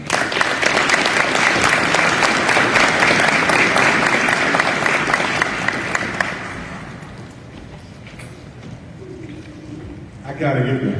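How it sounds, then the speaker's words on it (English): Audience applause at a ceremony honoring a police department family, a dense, loud wash of clapping that fades after about six seconds, with a voice speaking as it dies away. "give them a round of applause."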